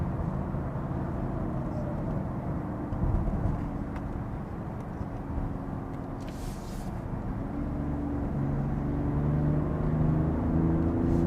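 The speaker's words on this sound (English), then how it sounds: "But this diesel just pulls nicely." Genesis GV80 diesel SUV heard from inside the cabin as it accelerates, a steady low engine drone and road rumble that rises gradually in pitch and intensity, with no talking.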